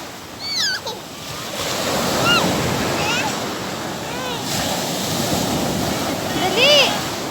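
Waves wash up a beach in a steady roaring surf, close and loud with wind noise, while people shout and chatter excitedly over it.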